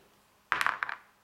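Dice are rerolled during a War of the Ring board game, landing in a quick, close clatter of several sharp rattling knocks after a quiet moment.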